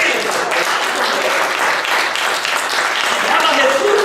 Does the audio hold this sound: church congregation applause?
yes